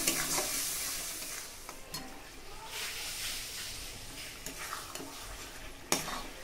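Chili powder, turmeric and salt with green chili paste sautéing in oil in a pan, giving a continuous moderate sizzle broken by several sharp scrapes and clinks of a spoon stirring.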